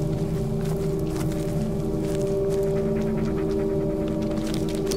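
A dog pants steadily and close by in the dark woods of the Blair Witch video game, its quick breaths carried over a constant low ambient drone with faint footsteps.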